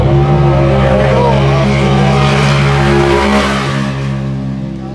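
UTV race machines roar at full throttle at the start of a desert race in Powell, Wyoming, a loud sustained engine drone with a steady pitch that eases slightly toward the end, with faint commentary underneath.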